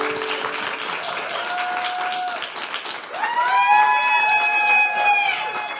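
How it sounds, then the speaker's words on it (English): A graduation ceremony audience applauds with sustained clapping and some whoops and cheering voices rising above the crowd. The applause grows louder in the second half. "You can feel free to clap or cheer."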